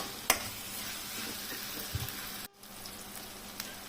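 Okra frying in a pan gives a faint, continuous sizzle with a sharp clink early on, a couple of soft knocks, and a brief dropout partway through. No one speaks.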